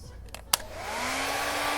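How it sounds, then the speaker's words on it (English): A blow dryer drying airbrushed paint on custom-painted Minnie Mouse pants clicks on after a couple of sharp taps, then roars with a steady, loud, close whoosh and a rising motor whine. "Use a blow dryer"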